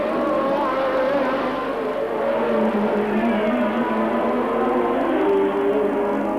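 A 1981 Formula 1 race car at the Austrian Grand Prix roars past, its engine note high and sustained with a slight pitch shift as it goes by, loud and steady throughout.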